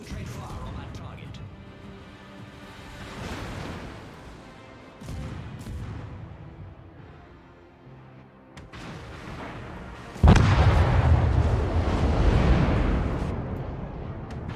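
Naval gunfire in the World of Warships video game, deep booming salvos and rumbling blasts, with a louder heavy barrage near the end, while a player talks over the game sound.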